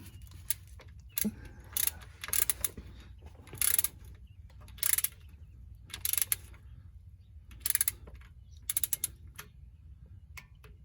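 A hand ratchet torques the transmission pan bolts on a Ford Focus in short bursts of rapid clicking, separated by quiet pauses, close and fairly clear with no talk.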